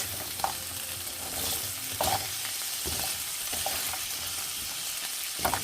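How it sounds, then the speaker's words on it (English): Vegetables and broken ramen noodles saute in a hot pan, a steady close sizzle broken by occasional scraping stirs of the utensil, with no talking. "And I'm just going to lightly saute these."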